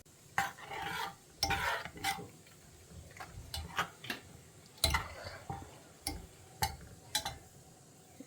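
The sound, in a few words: stirring pineapple rasam in a pot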